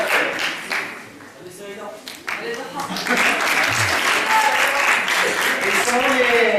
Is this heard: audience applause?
yes